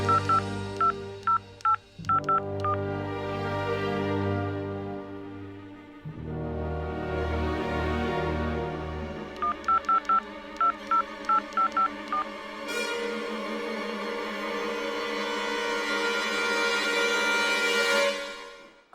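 A telephone being dialed, with a series of clear keypad tones in quick bursts, repeated across several sequences over a steady background.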